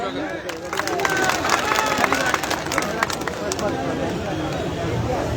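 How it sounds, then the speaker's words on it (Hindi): Loud crowd applause and cheering at an OBC Mahasabha protest rally in Chhatarpur, Madhya Pradesh, a dense sustained roar of many hands clapping that holds steady throughout. "जोरदार ताली"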